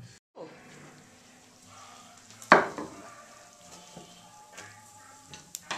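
Lard melting and frying in a pan with wine: a soft, continuous sizzle with stirring and one louder scrape or splash, close by and fairly quiet.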